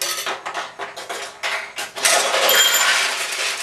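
Metal balls clatter and rattle through a Nishijin pachinko machine, a dense run of small metallic clicks and jingles that grows busier and louder toward the end, with no talk.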